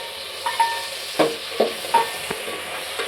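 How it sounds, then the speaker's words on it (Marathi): Tomatoes frying in a pan under a soft steady sizzle, with repeated scrape-and-clink strokes of a spoon stirring them, close by. "चांगले आता फ्राय करून घेऊया टोमॅटो पण."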